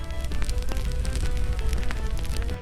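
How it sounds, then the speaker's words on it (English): A crackling fire pops and snaps steadily throughout, with dense irregular crackles over a low roar, sounding close and fairly loud with no voices. "A crackling fire."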